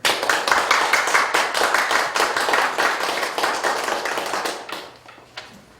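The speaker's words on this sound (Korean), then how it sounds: "뜨겁게 박수 부탁드립니다" Audience applause at a police broadcasting charity concert of Christian gospel performers: dense, steady clapping from a crowd for about five seconds, then thinning and fading out near the end.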